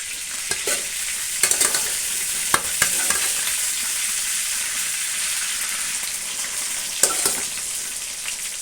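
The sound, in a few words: soya frying in hot oil with curry leaves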